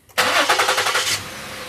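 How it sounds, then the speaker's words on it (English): A Ford engine with a misfire and an ignition coil fault cranks and catches, its rough starter whir running about a second before it settles into a quieter, steady idle. "Let's go ahead and start the engine."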